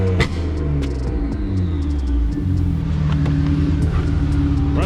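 Turbocharged BMW engine, already warm and running high boost, idles with a steady, close, loud rumble and small throttle changes, with no talking.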